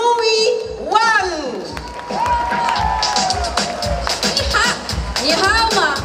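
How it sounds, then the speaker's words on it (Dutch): Audience at a political party mass rally breaking into loud applause and cheering, a sustained crowd roar with clapping throughout, with shouts and voices over it. "Laten we met een groot applaus oproepen"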